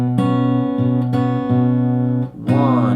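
An acoustic guitar is fingerpicked through the first measure of a song, alternating bass notes with pinched chords in a steady rhythm, close and loud with no talking.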